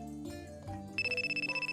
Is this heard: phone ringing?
yes